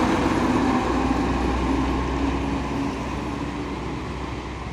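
A Fuso engkel truck labours up the steep Bukit Kodok climb, its diesel engine producing a heavy, continuous low rumble with a steady drone that eases slightly as it strains, loud and close with road noise around it.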